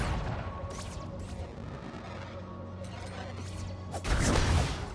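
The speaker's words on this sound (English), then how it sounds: "That was an explosion." An explosion goes off in the Tunic video game, a loud low burst near the end following several swishing whooshes and scattered impacts over a rumbling game background.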